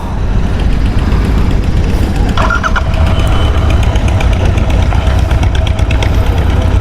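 Royal Enfield Interceptor 650 Mark 2 motorcycle engine running close by, with a loud steady idle rumble and a few brief clicks and mechanical ticks, without talk.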